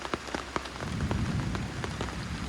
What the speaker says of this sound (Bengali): বৃষ্টি, প্রচণ্ড পরিমাণ বৃষ্টি।